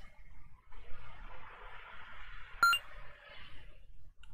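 A brief electronic beep from a phone menu in the Therapist: Mind Manager game, a lone crisp tone over a soft hiss of game ambience.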